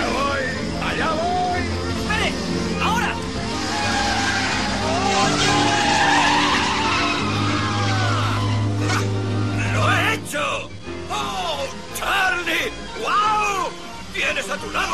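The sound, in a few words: car being driven, tires skidding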